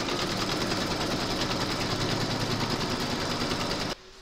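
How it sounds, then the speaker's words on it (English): An embroidery machine stitching the second round of a mandala coaster design in a hoop, a steady, loud, rapid mechanical hum and needle chatter that runs continuously and then stops abruptly near the end. "Pop your hoop into your machine and stitch round number two"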